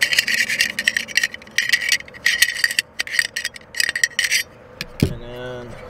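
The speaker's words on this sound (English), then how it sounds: "I'm just going to run a screwdriver up in here." Metal screwdriver scraping and rasping inside the burner tube of an LP gas appliance, a run of close, rough scratching strokes in bursts, ending in a sharper knock and brief ring.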